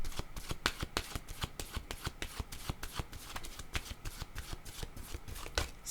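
Tarot cards being shuffled: a quick run of close, crisp, regular riffling snaps repeating steadily, with no talk over them.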